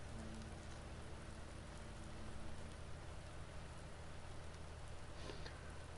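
Steady rainfall in Farming Simulator 19, a dense even hiss of rain on surfaces that runs without break, fairly loud and unaccompanied by talk.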